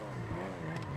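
A car drifting in the FiveM driving game with the throttle feathered: a brief, steady engine drone with a slight rise and waver in pitch, close and continuous.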